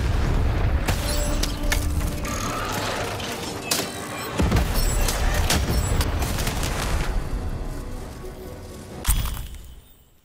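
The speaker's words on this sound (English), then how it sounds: "To fire the cannon!" A cannon fires in a video game, a heavy boom followed by shattering and mechanical clatter, with further impacts and rumbling debris over several seconds before fading out.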